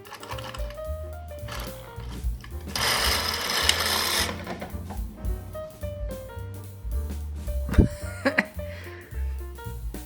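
A knitting machine carriage is pushed across the needle bed in an intarsia session, giving a dense rattling mechanical run of clicks and whirring that swells midway and ends with a few sharp clacks, loud and close.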